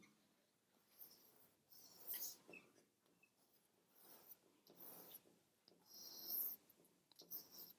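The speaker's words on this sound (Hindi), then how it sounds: "मैं इस मंत्र को लिखता हूं" A mantra being written out by hand, heard as faint, intermittent scratching strokes in a quiet room, rising and falling in short bursts.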